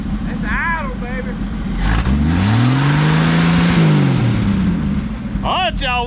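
A 1964 Chevrolet Biscayne engine, just started after about 20 years, revs up loudly and settles back toward idle, with people talking briefly before and after the rev.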